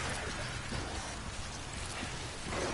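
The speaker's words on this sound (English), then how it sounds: "Get out of the rain!" Heavy rain falls in the video game Death Stranding, a thick constant hiss of drops hitting the ground that stays loud and even for a few seconds.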